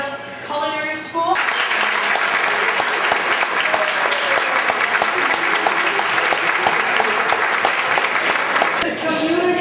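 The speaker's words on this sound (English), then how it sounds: "So how about a big round of applause?" Sustained audience applause at a culinary school presentation attended by city and school officials, a dense loud roll of clapping that starts abruptly after a brief spoken intro and runs nearly ten seconds before cutting off.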